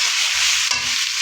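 Onions, ginger and garlic frying in hot oil for beef tehari, a steady close sizzle with stirring scrapes and a brief rustle partway through.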